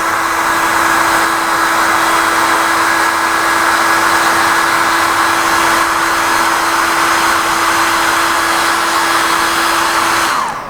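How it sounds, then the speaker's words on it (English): A hair dryer blows steadily and loudly on a carved wooden koi, melting finish into the wood; a constant whirring hum with a high airy hiss, cutting off abruptly at the end. "then I'll get the hairdryer and I'll melt it"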